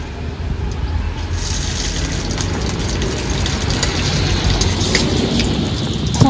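Radhuni seeds and bay leaves sizzle in hot oil as a tempering for a raw pumpkin and rohu fish curry, a loud, continuous crackling hiss with sharp pops throughout.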